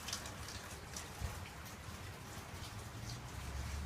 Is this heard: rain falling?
yes